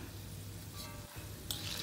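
Peanuts frying in hot oil in a pan, a steady soft sizzle that hisses continuously and fairly quietly, with no voices.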